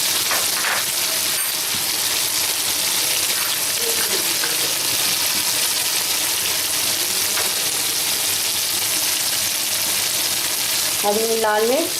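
Tomatoes cooking for beef shashlik fry in a pan with a loud, dense, rain-like sizzle throughout, a few brief scrapes and a short voice sound near the end.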